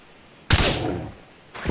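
A gunshot cracks loudly and sustains a rumbling tail, followed by the onset of another shot near the end, fired at a leopard during gameplay of the video game Far Cry 3.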